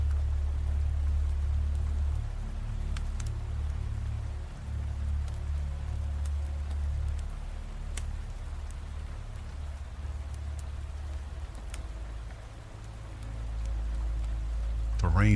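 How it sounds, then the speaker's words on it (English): Steady rain falls throughout, a dense hiss of drops on surfaces with occasional sharper drips, under a continuous low rumble, with a voice talking over it. "The rain was relentless."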